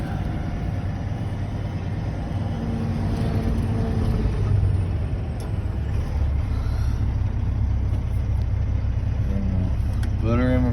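A semi truck's engine rumbles steadily and close as it reverses under a trailer to hook up double trailers, a continuous low drone with small surges but no clear breaks.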